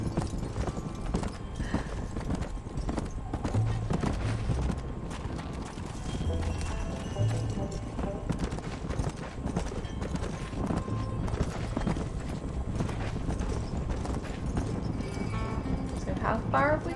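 Horse hooves gallop in steady clip-clop rhythm through a Red Dead Redemption ride, close and continuous over a running game soundscape, with a voice talking over much of it.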